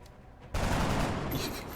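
A soldier's rifle shot in the strategy game XCOM: Enemy Within lands as one sharp, loud blast after a quiet half second, followed by a sustained burst-like rumble with a ringing tail.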